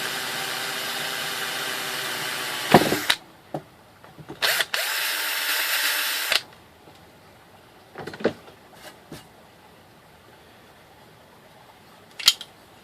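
A power drill bores the first hole in a part for a homemade rosin extraction press, with a short burst and then a longer steady whirring run, followed by a few scattered clanks and taps.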